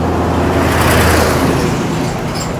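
Roadside traffic at dusk with cars, pickup trucks and trucks rolling past, a loud continuous close wash of tire and engine noise with no talking.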